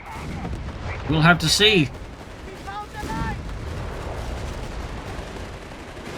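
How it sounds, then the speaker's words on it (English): Heavy automatic gunfire and artillery bursts in a Company of Heroes 3 battle between Afrika Korps and US forces, a loud cluster of shots early on, then steadier rumbling battle noise under a commentator's voice. "Heavy automatic fire there, routing the GIs"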